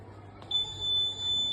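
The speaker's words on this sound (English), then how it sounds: "the ultrasonic sensor is giving the signal to buzzer, and the buzzer is buzzing." A steady high-pitched electronic buzz from an ultrasonic obstacle sensor's buzzer starts suddenly and holds, fairly faint over a quiet background.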